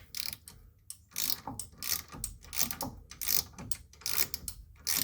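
A ratchet works in quick repeated bursts of clicking strokes, tightening the upper ball joint on a 2002 Chevrolet Silverado, close and loud with no talk.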